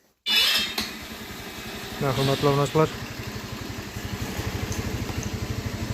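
A small Largo Motors petrol scooter engine starts abruptly and settles into a steady, rapid putter at idle while someone talks briefly over it.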